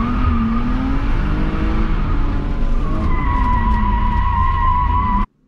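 Car drifting at a basic beginner drift exercise, with continuous loud tire skidding and squealing over a steady revving engine throughout, cutting off abruptly at the end.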